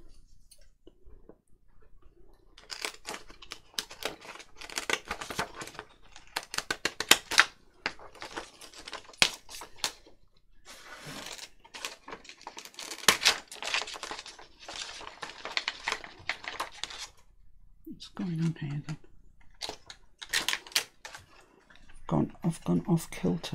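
Scissors snip through a clear acetate sheet for a file folder journal in short, crisp clicking cuts, close and fairly faint, in irregular runs with pauses while someone talks.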